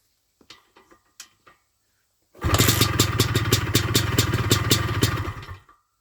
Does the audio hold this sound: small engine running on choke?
yes